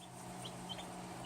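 Baby chicks being fed, a few faint high peeps scattered over a steady low hum, with no one speaking.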